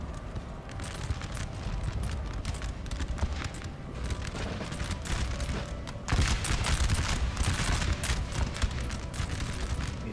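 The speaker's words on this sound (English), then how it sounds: "there's the artillery" Artillery fire in a Napoleon: Total War battle, a dense continuous barrage of booms and crackling volleys that swells louder after the midpoint, with no voices.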